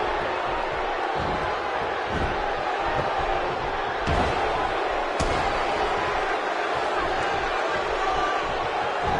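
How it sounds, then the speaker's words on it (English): A wrestling arena crowd cheers and roars in a loud, steady wash of noise, with a few sharp thuds and swells breaking through. "by the sound of this crowd, I think they're getting what they wanted"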